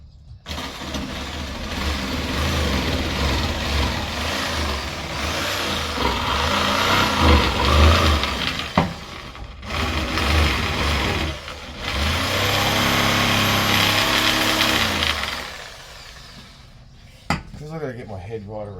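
A jigsaw cuts through a shower pod panel in loud, rattling bursts of buzzing, broken by short pauses where the blade stops before starting again.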